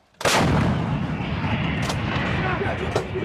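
A U.S. Marine M777 towed 155mm howitzer fires during a live-fire exercise, one huge close blast that booms and then rolls on in a long sustained rumble, with a few sharper cracks within the echo.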